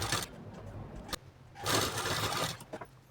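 A sewing machine stitches along a folded katori blouse, short runs of close motor hum separated by pauses and a handling click.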